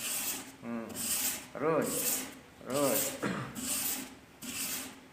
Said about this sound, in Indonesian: Kemiringannya ngasah jangan melebihi daripada ketebalan goloknya